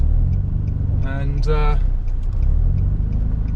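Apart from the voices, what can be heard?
broken-down car being towed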